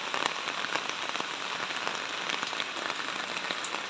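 Heavy rain drums steadily on a house roof during an approaching typhoon, a dense, continuous hiss with scattered louder drop impacts throughout, close and unbroken.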